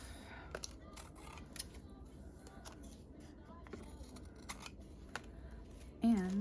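Scissors snip excess paper from a small ephemera piece in a quiet room, a few faint crisp cuts with light rustling before a louder handling bump at the end.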